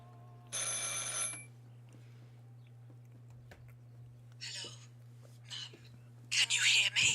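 A telephone rings inside a spooky video game, in bursts of bright electronic trilling over a steady low hum, with some faint noises and short sounds between the rings.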